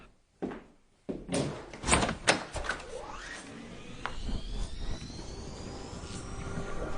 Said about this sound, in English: A gust of air whirled round me as I opened the door.